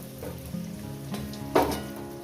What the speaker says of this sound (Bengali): আলুগুলো আমি সুন্দর করে লাল লাল করে পাঁচ ছ মিনিট ধরে আমি আলুগুলো ভাজবো